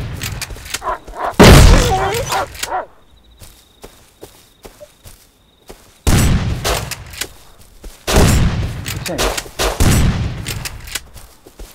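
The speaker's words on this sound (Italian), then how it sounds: "io sto sparando" Bursts of gunfire in the video game Rust crack out in loud clusters separated by quieter stretches, with faint footsteps and background ambience between volleys and some talk mixed in.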